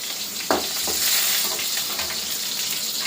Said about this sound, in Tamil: வரமிளகாய், அப்புறம் பச்சை மிளகாய் போட்டுட்டு லைட்டாக வதக்கிக்கலாம்.